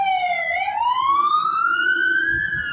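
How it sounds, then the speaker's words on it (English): A wailing siren sweeps slowly down and then climbs steadily upward in a long continuous tone, loud and fairly near, with no voices over it. "siren."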